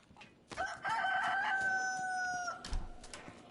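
A rooster crows once in the DayZ video game, a single drawn-out cock-a-doodle-doo with a low thump near the end, heard alone with no talk.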